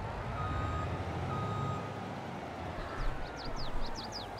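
Truck backing up in the video game Farming Simulator 22, with a steady engine drone and a rapid series of high reversing beeps sounding near the end, fairly quiet overall.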